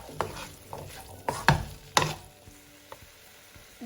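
Paneer cubes and chickpeas being stirred in a frying pan, a few distinct scraping and clattering stirs over a soft low sizzle, close and fairly quiet, with no talking.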